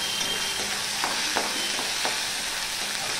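A tempering of salt, ginger and sugar sizzles steadily in a hot pan, a constant bright frying hiss with a few stirring scrapes, close and alone.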